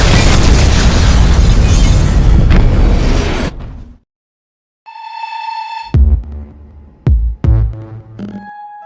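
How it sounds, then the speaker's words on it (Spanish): A huge explosion from a Venom Shock colliding with the Spot in an animated Spider-Verse battle, a loud sustained roaring blast that cuts off abruptly, followed by quieter tonal hits and short impacts. "activa su energía para impactar a la Mancha con un Venom Shock que termina colisionando en una gran explosión"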